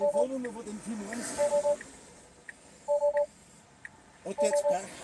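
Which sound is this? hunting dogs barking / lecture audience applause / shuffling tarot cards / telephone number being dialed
telephone number being dialed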